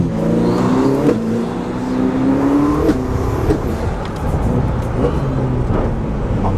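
A supercar engine revs hard as it accelerates through a dangerous bend, a loud, continuous rising whine with shifting pitch close to the listener and no talk over it.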